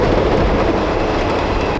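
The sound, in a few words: Erie Lackawanna passenger train at Hoboken station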